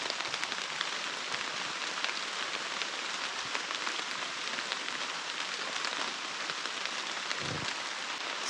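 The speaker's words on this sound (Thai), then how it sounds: "แต่เบิ่งฝนแล้วคือสิเซายากอยู่" Steady rain falls outdoors in a dense, unbroken hiss of drops pattering on surfaces, constant and fairly close with no voices.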